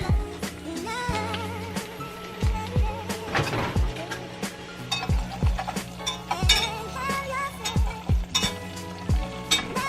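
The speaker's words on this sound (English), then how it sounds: "Just gotta whisk this butter in to blend it." Butter being whisked into maple syrup in a pan, with a soft sizzle under repeated metallic clinks and taps of the whisk against the pan, close and fairly busy, while a steady musical tone hums beneath.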